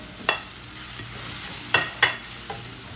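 Tomato masala with coriander powder, Kashmiri chilli powder and pepper fries in a pan, a soft steady sizzle broken by a few sharp scraping stirs close by.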